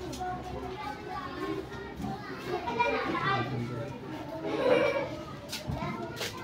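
Children playing at a school in the Philippines, a steady lively crowd of kids' voices, chatter and shouts at moderate distance, with nearby speech mixed in.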